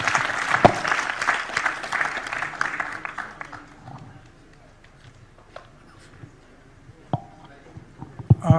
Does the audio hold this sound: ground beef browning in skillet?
no